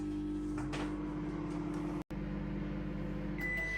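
A steady low mechanical hum with a constant tonal drone from an 800-watt microwave oven steaming potatoes runs throughout, briefly cutting out for an instant midway before resuming.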